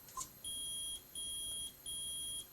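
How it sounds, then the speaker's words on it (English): In the Phoenix Wright: Ace Attorney video game, a metal detector gives three evenly spaced, long, high electronic beeps, clean and steady with no talk over them. "Oh, the metal detector is beeping."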